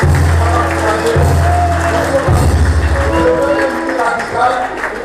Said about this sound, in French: On va encourager par les acclamations